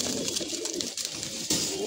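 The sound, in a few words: khaki pigeon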